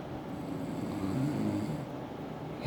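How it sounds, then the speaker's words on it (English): A person snores steadily, a rough low rumbling breath that fills the space at close range, continuous and fairly loud with no talking. "He'll start snoring again"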